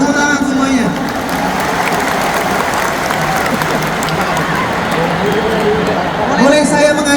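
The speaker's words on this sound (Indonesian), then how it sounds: "Tepuk tangan semuanya." Large rally crowd at Jakarta International Stadium applauding steadily for the full stretch, a dense roar of clapping mixed with cheering voices and shouts.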